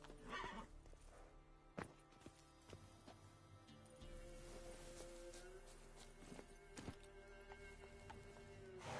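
Roach, a horse in the video game The Witcher 3, lets out a whinny near the start, followed by hooves clip-clopping at close range with a few sharp thuds, loud and clear.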